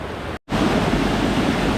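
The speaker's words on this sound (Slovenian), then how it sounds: "kakšen čudovit slap, dvopramenski slap" A two-stream waterfall in the Ukanška Suha gorge roars in a loud, continuous rush of falling water, broken only by a brief gap near the start.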